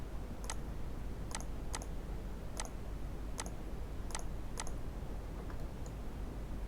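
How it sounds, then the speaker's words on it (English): A handful of separate computer keyboard key presses while working in Revit MEP software, each a sharp, isolated click spaced irregularly over a steady low background hum. "I'm going to press DI on my keyboard."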